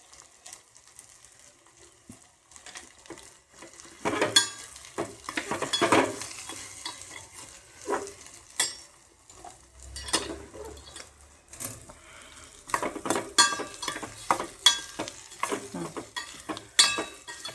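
Potatoes sautéed in oil over low heat for a fasting-day potato amti, with a spoon scraping and stirring the pan in bursts over a soft, steady sizzle, close and fairly loud in places.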